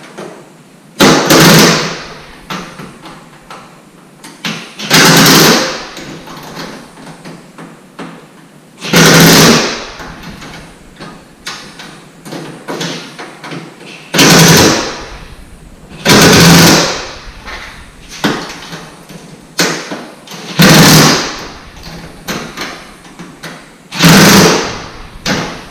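An impact gun drives bolts while a Harbor Freight dust collector is assembled, with about eight loud, rattling bursts of a couple of seconds each, separated by quieter pauses.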